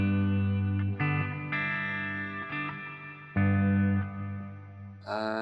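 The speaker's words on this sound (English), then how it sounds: "I'm going to go with a plate reverb" Sustained electric guitar chords run through a Meris Mercury X pedal set to plate reverb with long pre-delay and fully wet mix, each chord blooming into a lush shimmering wash that rings on between changes.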